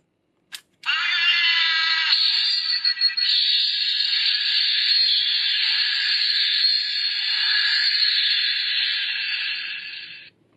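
A Bandai Ultraman transformation bracelet toy gives a click, then a shrill, continuous electronic whine that holds steady for several seconds before fading out.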